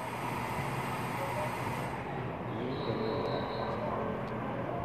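An 800-series local train pulls out of Zhubei station in Taiwan, bound for Ruifang, with a steady broad rumble and a brief high squeal partway through.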